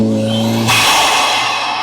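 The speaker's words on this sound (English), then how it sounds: "That right there is what the intake sounds like." A German sports car engine revs through an aftermarket intake, a steady tonal drone giving way to a sudden loud, roaring surge of intake noise that stays full and close.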